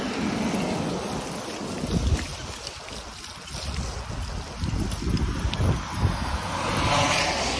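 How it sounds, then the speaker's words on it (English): Heavy rain on the road to Heathrow, a steady broadband wash of downpour and spray mixed with passing traffic rumble, loud and continuous throughout with surges near the middle and end. "Now it's properly raining on the way to Heathrow, so we're getting really wet."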